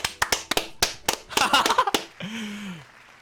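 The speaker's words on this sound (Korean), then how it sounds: "우리 모두 박수 한 번 크게 쳐줍시다" A quick series of sharp claps and smacks, irregular and close, followed by a short rising-and-falling electronic tone, an applause sound effect in a dating-sim video game.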